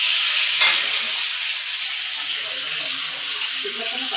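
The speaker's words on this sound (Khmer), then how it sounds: "ឥឡូវនេះខ្ញុំធ្វើការឆាបងប្អូន" Vegetables with pineapple, tomato and onion stir-fry in a hot pan, giving a steady broadband sizzle with a sharp clatter near the start and faint low scraping and stirring underneath.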